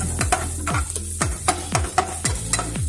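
Garlic fried rice being stirred in a hot pan, with repeated sharp spatula scrapes and knocks in an uneven rhythm over a steady low sizzle, close and fairly loud.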